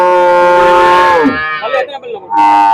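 Cow mooing at the Erode cattle market in Tamil Nadu: one long, loud, close low moo that slides down and trails off, with a second brief call starting at the end.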